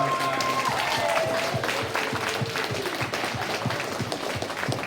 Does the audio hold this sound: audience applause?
yes